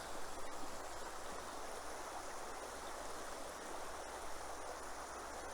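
Water flows in a small creek as a steady, even rushing wash that continues without pause and stays fairly soft.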